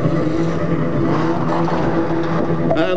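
A stunt car at a live stunt show, driven by Terry Grant, roars with a sustained loud engine note and rough tire noise as it is maneuvered into a parking spot.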